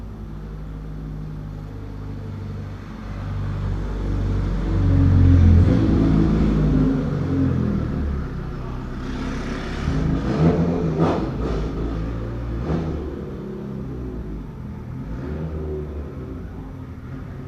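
A Toyota Supra drives the run-up of a drift course, its engine rumbling and surging through steady revs with tire and wind noise, a continuous close-up drone that swells midway and again later.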